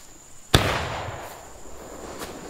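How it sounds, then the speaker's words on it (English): A single sharp gunshot in the War of Rights video game, a loud close crack followed by a short fading echo, with no talking. "Here, I'll shoot."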